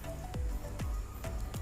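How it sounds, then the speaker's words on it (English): Four beaten eggs go over cooked potatoes in a pan for a Spanish omelette, landing as a few distinct wet plops and drips, close and spaced apart. "Now take 4 eggs and pour the eggs in the potatoes."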